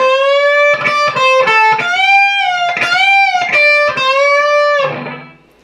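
Electric guitar plays a lick from a song, loud and close, with bent, sliding sustained notes broken by quick picked passages and a pull-off, then trailing off at the end.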